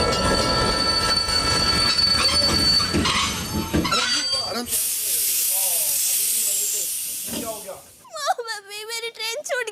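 A passing train rumbles and squeals on the rails, wheels screeching with steam-like hiss, loud at first then giving way to broad hiss before voices break in near the end.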